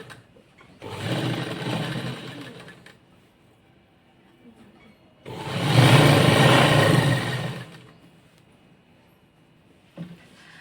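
An electric sewing machine stitches satin fabric with a crepe lining in two loud bursts of steady running, separated by a quiet pause, with a brief click near the end.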